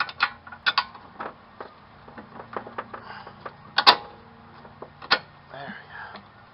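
A ratchet snugs the strut mount nuts on a Toyota with 19 mm sockets, giving irregular clicking and metallic rattles, fairly faint and close.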